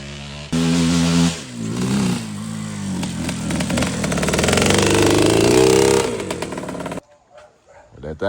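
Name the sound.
two-stroke motorcycle engine shifting through gears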